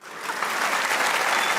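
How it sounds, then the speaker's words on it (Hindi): A studio audience at a comedy talk show breaks into applause, the clapping rising sharply within a moment and holding as a dense, even wash of hands. "वो तालियां बजाएं।"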